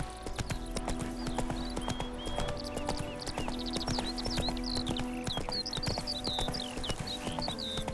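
Geralt's horse Roach trotting in The Witcher 3, a steady quick clip-clop of hooves on hard ground under birdsong and ambient game sound.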